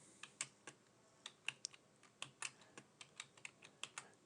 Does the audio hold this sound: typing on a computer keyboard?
yes